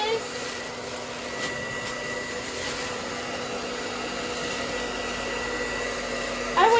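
A hair dryer heat-shrinking plastic wrap on a gift basket blows with a constant whooshing drone nearby, running steadily the whole time with no breaks.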